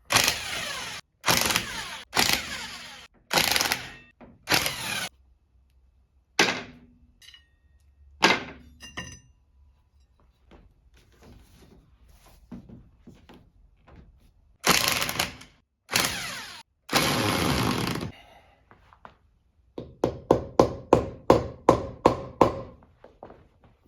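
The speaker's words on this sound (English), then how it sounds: "If you are going to be using an impact like I'm about to do" An impact wrench works on wheel parts of a 1990 Harley-Davidson Sportster, firing in loud repeated short bursts with quiet gaps, ending in a rapid hammering rattle.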